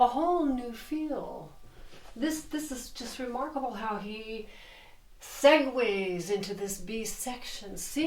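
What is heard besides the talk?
No distinct noise like a dog, phone or traffic.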